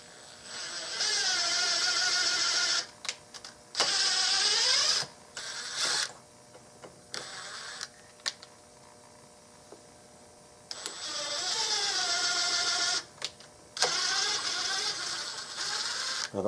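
A waxed screw is driven into a wooden gun stock for a custom Mauser rifle to cut threads. Several bursts of whirring, squeaking mechanical noise with rising pitch alternate with quiet gaps.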